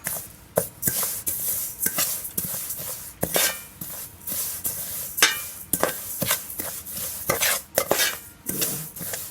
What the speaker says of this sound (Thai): ต้องไม่หยุดคั่วคั่วให้กระทะมันเริ่ม อุ่นๆเย็นๆก่อนค่ะไม่นั้นเดี๋ยวไหม้ค่ะ